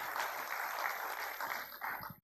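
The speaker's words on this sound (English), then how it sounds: "A round of applause once again for" An audience applauds a speaker at a Port Harcourt finance week event, a fairly faint, steady patter of clapping that fades out abruptly after about two seconds.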